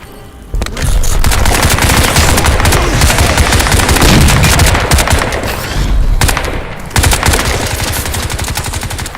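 Heavy automatic gunfire from a Crysis 2 multiplayer match on PC rattles almost without a break. It is loud and dense, with rapid bursts, a brief dip near the end, and then more shooting.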